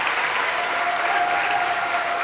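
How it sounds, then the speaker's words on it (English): A crowd at a Pittsburg vs. Coffeyville basketball game claps steadily as the home fans applaud their team, a dense, continuous wash of clapping heard from above the floor. "And you hear the clapping down below us."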